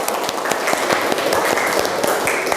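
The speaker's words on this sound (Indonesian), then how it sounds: "Wah, betul, tepuk tangan." Scattered clapping from a small group of students in a classroom, rhythmic hand claps over a busy room murmur, moderately close and fairly even in loudness.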